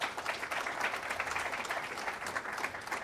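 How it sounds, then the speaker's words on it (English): Audience applause at a public forum, a dense steady patter of many hands clapping at moderate distance, continuous for a few seconds with no talk. "I think we should give them a round of applause as well."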